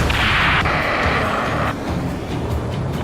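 A rocket explodes in the Ace Combat 7 flight game as a loud roaring hiss and boom that holds for over a second, then cuts off and leaves a low rumble.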